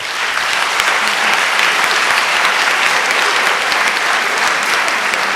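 Audience applause following an artist talk with Ai Weiwei and Tania Bruguera, a loud, dense, steady wash of many hands clapping that holds evenly from start to finish.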